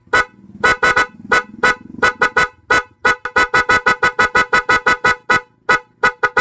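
A PIAA car horn wired through a single relay sounds a rapid series of short, loud honks in an irregular rhythm, close and alone without talk.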